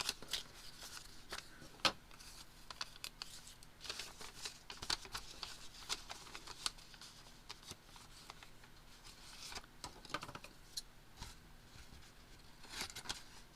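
Scissors trimming spare paper pieces for a junk journal, a string of quiet close snips and papery rustles, with one brief spoken word.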